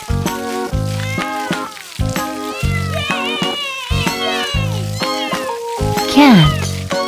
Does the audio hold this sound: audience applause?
no